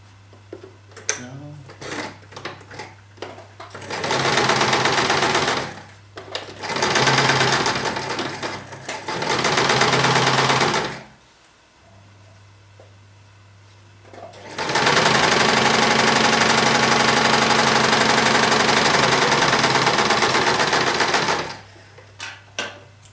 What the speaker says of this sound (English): To add the pocket, I've just created some lines. I'm going to sew the top.